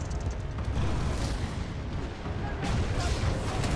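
Heavy, continuous gunfire and booming blasts from a Titanfall 2 battle, loud and dense with overlapping explosive bursts throughout.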